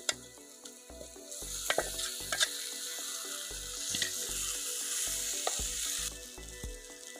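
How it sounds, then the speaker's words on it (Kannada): Cooked mutton goes into sizzling masala in a pan, giving a steady frying hiss broken by repeated scraping stirs and clinks of a spoon against the pan, close and continuous with no talk. "ಮಟನ್ ಹಾಕ್ತಾ ಇದ್ದೀನಿ."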